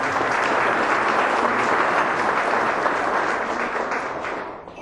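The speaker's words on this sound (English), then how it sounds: "our state legislators deserve a round of applause" A chamber of commerce audience applauds for state legislators, steady dense clapping that holds for several seconds and then thins out and fades at the end, with no talking over it.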